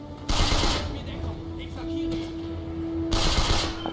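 Bursts of MP40 submachine gun fire in the BattleStrike shooter game, two loud sustained volleys at start and end with a steady tone and faint chatter in between.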